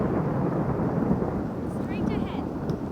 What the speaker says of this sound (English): Hurry up! The storm is close.